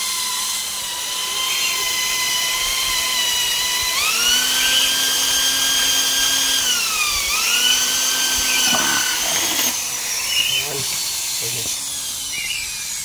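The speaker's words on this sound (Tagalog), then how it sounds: "Tara na, barenahin na natin." A power drill boring into the bell housing of an Aerox motorcycle, with a high whining drill tone that shifts pitch as it bites and then trails off, followed by clanks.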